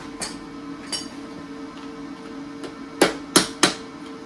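A ball peen hammer taps metal while a reinforcing hoop is fitted on a 1979 Honda CB750 café racer frame: two light strikes early on, then three sharper, louder clinks close together near the end.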